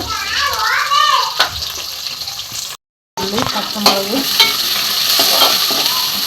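Shallots and green chillies frying in a pan for a Tamil Nadu style curry, with a steady sizzle and stirring throughout, briefly cut off midway, then resuming with a voice speaking over the cooking.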